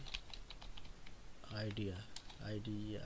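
Rapid typing on a computer keyboard, quick light clicks in short bursts alongside a person talking nearby.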